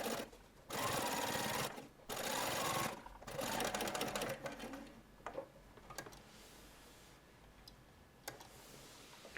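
A sewing machine top stitching along a dress neck edge runs in short bursts of rapid whirring separated by pauses, followed by quieter clicks and handling noises.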